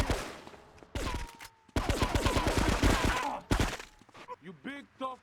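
Bursts of AK rifle fire in Grand Theft Auto 3, rapid crackling volleys in several separate bursts, with shouting and voices breaking in between.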